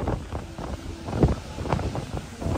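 Strong wind in Miami, Florida buffets the microphone in loud, uneven gusts, a rough blustery roar rising and falling throughout with no talking.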